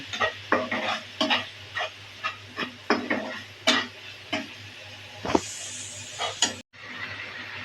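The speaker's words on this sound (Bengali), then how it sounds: "হলুদ গুঁড়া ধনিয়ার গুঁড়া দিয়ে মশলাটাকে সুন্দর মতো কষিয়ে নেব" A spice paste with dry chili, turmeric and coriander powder is sautéed in a pan: repeated scraping stirs over a low sizzle, loud and close, ending in a sudden cut.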